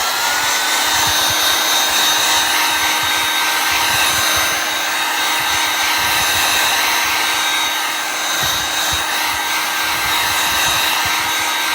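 A hair dryer blows on chalk paste spread over a tier tray, a loud, steady, close whirring roar that runs unbroken from start to end with no talk.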